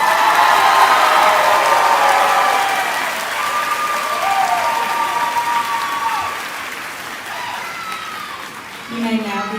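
A high school graduation audience applauds the students, sustained loud clapping mixed with cheers and whoops, tapering slightly before a fresh swell at the end.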